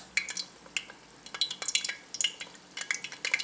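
Wontons frying slowly in a pan, a quiet crackling sizzle with scattered sharp pops and spatters, close and fairly faint.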